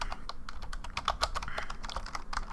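A name being typed on a computer keyboard: rapid, close, uneven key clicks in quick bursts, without speech.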